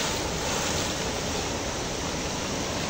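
River water at Sabha Khola rushes in a steady, close, full-bodied roar that never lets up, with no voices over it.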